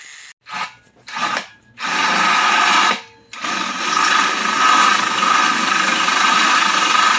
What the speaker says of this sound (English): Clean and rust. That I'm gonna need to use a grinder on.